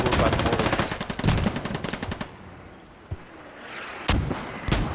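Machine gun and mortar fire in a military shooter game match, rapid loud bursts of automatic fire for about two seconds, then quieter gaps broken by sharp isolated shots and distant booms.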